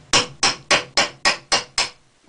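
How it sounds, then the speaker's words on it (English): A hammer strikes a blade to split a hazel stave for a bow, giving seven evenly spaced, sharp knocks about a third of a second apart, close and clear with no talk. "and your hammer"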